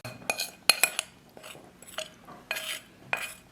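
Boiled and cooled glass noodles get mixed on a plate, with sharp, irregular clinks and scrapes of utensils against the dish, close and clear with no talk.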